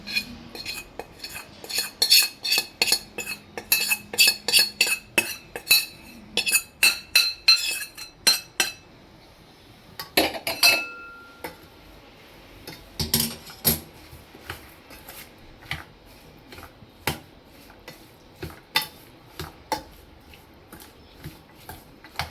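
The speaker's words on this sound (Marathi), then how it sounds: "हा आपण आता याच्यात व्यवस्थित मिक्स करून घेऊया" A spice masala mixture for pickle being stirred in a pan with a metal spoon, giving rapid clinking and scraping strikes against the metal, dense at first and then sparser, close and fairly loud, with no talking.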